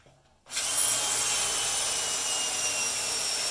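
After a brief quiet start, a cordless drill with weakening batteries whirs into action and runs continuously at high speed, loud and close, drilling a patch panel on a 1973 Ford Ranchero GT.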